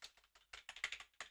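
Quick, light clicks of fingers typing on a computer keyboard during a coding session, about a dozen close, crisp keystrokes in an uneven rhythm, with no voices.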